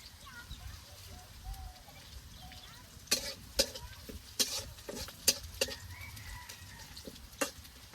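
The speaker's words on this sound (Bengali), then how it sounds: "পেঁয়াজ কাঁচামরিচ গুলা খুব ভালোভাবে বাইজা নিছেন" Chopped onion and green chilies fry in a pan for a dried-fish curry, a low sizzle broken by a run of sharp spatula scrapes and clacks against the pan in the middle of the clip.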